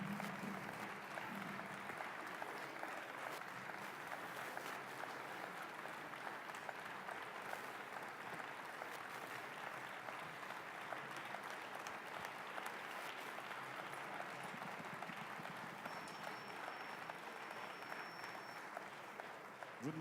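A standing ovation at a conference's closing plenary for a French Académie Française scholar, with steady, dense applause from a large crowd filling the hall continuously without letup.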